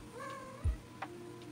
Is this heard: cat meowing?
yes